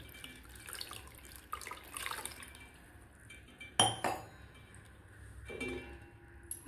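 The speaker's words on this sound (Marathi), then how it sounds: "आता यावर आपल्याला थोडंसं थंड पाणी घालायचं आहे, म्हणजे लवकर थंड होतात हे सोयाबीन" Cold water splashes over drained boiled soybeans sitting in a strainer, coming in a few soft gurgling pours with a sharp clink of a vessel midway, all fairly quiet and close.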